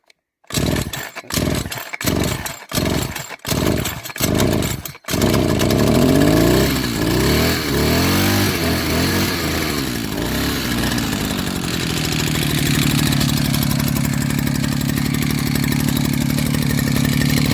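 A Demon RQ 580 petrol brush cutter engine sputters through several short chugging starts, then catches and runs steadily at a loud, close, even idle with a faint rise in pitch.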